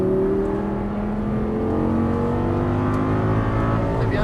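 An Audi R8 V10 sports car accelerates hard on a racetrack, its engine note rising steadily in pitch as a continuous loud roar from start to finish.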